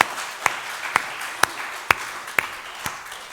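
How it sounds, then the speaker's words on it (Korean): A church congregation at a Sunday worship service claps in a slow steady beat, about six evenly spaced sharp claps roughly half a second apart over a soft room background. "박수 한번 해요"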